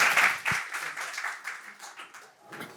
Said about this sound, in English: if we can give Rob a hand of applause